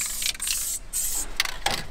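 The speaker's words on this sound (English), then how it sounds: "Is that tin of electrical cleans down there? Let's use some like that." Short hissing bursts of electrical cleaner sprayed from an aerosol tin onto a Nissan Skyline fuel system part, three or four quick blasts with brief gaps between them.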